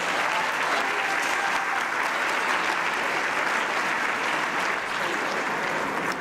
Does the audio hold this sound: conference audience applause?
yes